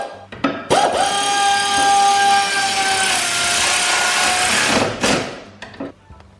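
A power tool whirs in a loud, sustained run of about four seconds as a nut is tightened while BC Racing coilovers are fitted to an R34 Skyline GTT, framed by short knocks and handling noises.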